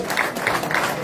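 A brief burst of audience applause at a Ferre Gola event, a dense wash of clapping that stays steady through its short length.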